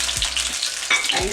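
Sausages frying in a pan, a short burst of close crackling sizzle with a couple of low thumps as they are handled.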